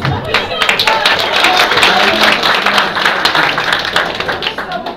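A political rally audience claps for a minister's speech in Yenişehir, dense and steady applause throughout with crowd murmur mixed in.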